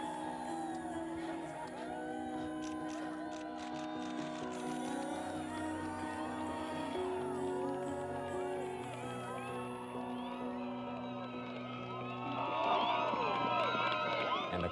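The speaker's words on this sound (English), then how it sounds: "the crowd cheered as the two men accomplished a feat many said was impossible" Spectators cheer as climbers Tommy Caldwell and Kevin Jorgensen top out on the Dawn Wall: scattered shouts, whoops and crowd noise that swell sharply near the end, with voices mixed in throughout.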